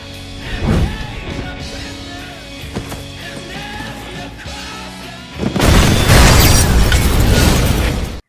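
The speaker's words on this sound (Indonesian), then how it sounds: "ia membakarnya hingga meledak" A loud, roaring explosion bursts in after a stretch of quieter rumbling and clanks, then sustains as a dense, crackling blast for several seconds.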